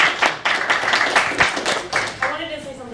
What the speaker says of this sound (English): Send big round of applause for her.